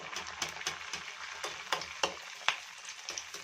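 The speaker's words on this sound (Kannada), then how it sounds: "ನೋಡಿ ಚೆನ್ನಾಗಿ ಎರಡು ಬದಿ ಫ್ರೈ ಮಾಡ್ಕೋಬೇಕು" A stuffed sajjaka holige fries on a low flame, giving a gentle sizzle with a rhythmic series of soft taps and scrapes from handling, close and moderately quiet.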